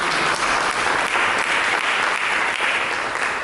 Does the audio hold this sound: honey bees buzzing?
no